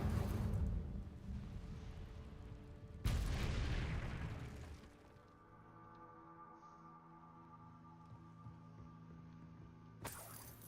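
A fire spell cast in the video game Hogwarts Legacy, heard as two heavy whooshing bursts with a loud blast in the first seconds, then a quieter crackling, droning tail that ends with a short rise.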